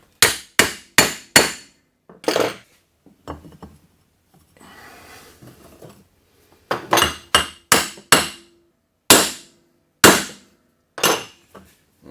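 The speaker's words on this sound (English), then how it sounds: "I'll just give this cover a little bit of a tap down" A hammer taps an electric motor end cover down onto its bearing during a workshop air compressor rebuild: sharp, close metallic knocks in quick bursts of three or four, with a brief pause of faint scraping between.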